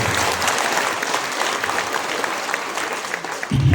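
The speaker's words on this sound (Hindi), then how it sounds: "हमारे नए गेस्ट के लिए जोरदार तालियों के साथ स्वागत करें।" A meeting audience gives loud applause to welcome new guests, a dense continuous roar of many hands clapping close by that cuts off abruptly near the end.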